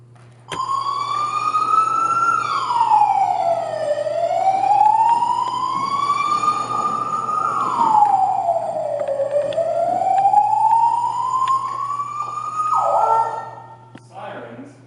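Emergency vehicle siren wailing loudly and continuously, its pitch sweeping slowly up and down in long cycles, close by and steady for most of the clip before cutting off near the end.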